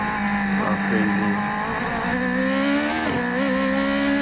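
Race car engine running steadily on a track as it slows and cools down, a loud sustained drone with shifting pitch and brief dips, with tire noise and no speech over it.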